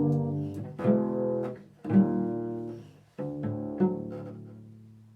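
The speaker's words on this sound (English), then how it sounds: "a harmonic progression that's known as the Andalusian cadence or Andalusian mode" Solo cello sounding an Andalusian cadence, four sustained bowed chords descending in turn, each swelling then fading, close and alone.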